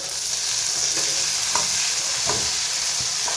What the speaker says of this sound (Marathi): त्याच्यात टमाटे टाकायचे.